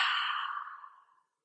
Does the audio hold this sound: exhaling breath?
yes